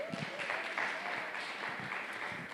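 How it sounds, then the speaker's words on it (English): Audience at a clinical research and engagement conference applauds a doctor being introduced, a steady wash of many hands clapping with a faint voice threaded through. "Please give Dr. Randall Urban a round of applause."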